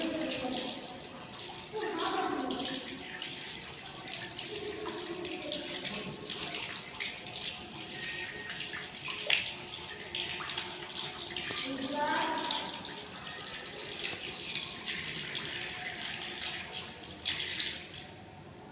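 Tap water runs steadily and splashes while an arm is washed during wudu, fairly close, with a voice speaking over the running water throughout.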